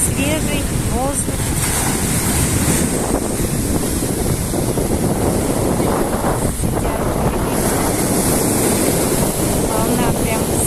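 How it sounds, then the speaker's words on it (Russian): Strong sea waves rolling and breaking on the Gagra shore on a windy evening, a constant loud roar of surf with heavy wind buffeting the microphone throughout. "Очень сильная волна приходит."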